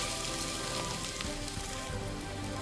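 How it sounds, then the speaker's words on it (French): Tri-tri, tiny fish, frying in a pan over medium heat for a Haitian rice dish, giving a steady, dense sizzle and crackle that stays close and even throughout with no voices. "Laissez sur feu moyen histoire que ça soit bien frit et bien cuit."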